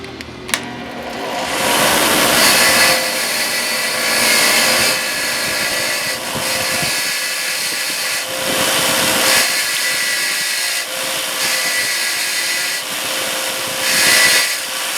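A power tool whirs steadily with grinding and scraping against metal, its pitch shifting as pressure changes, running continuously with a few brief dips.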